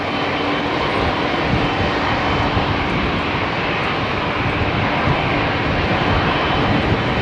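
A heavy jet departs runway 27R at London Heathrow, its engines a loud, unbroken broadband roar that holds steady throughout, with no voices.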